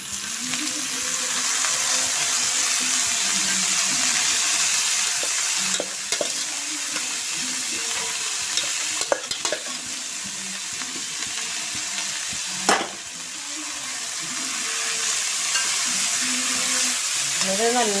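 Cooked horse gram tipped into chilli powder frying in oil for Kerala muthira thoran, a loud steady sizzle broken by a few sharp scrapes and knocks of the spoon as it is stirred in, close up.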